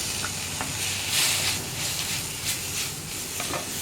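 Tomatoes and curry leaves hit a hot masala pan for bitter gourd masala, giving a continuous close hissing sizzle with occasional stirring scrapes and bursts of louder spitting.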